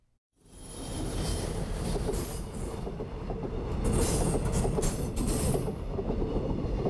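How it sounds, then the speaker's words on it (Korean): Along the Yeongdong Line, a train rolls past the Deungmyeong beach village in Gangneung, a continuous loud rumble and rattle of wheels on rails with high squealing, building slightly as it passes close by, with no talk. "열차가 지나다니는 강릉의 등명 해변 마을입니다."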